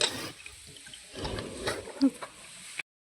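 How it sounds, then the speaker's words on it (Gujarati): Water runs from a tap or pipe for buffaloes to drink, a soft trickling and splashing with a brief louder gurgle near the end before the sound cuts off. "પાણી ચાલુ છે હજુ"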